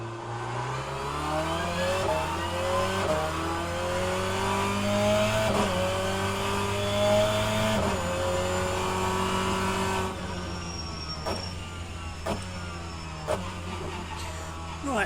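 A race car in rFactor 2 performs a launch-control start, its engine revving hard and climbing through several quick upshifts in a steady rising pattern, loud and close, with a little noise near the end.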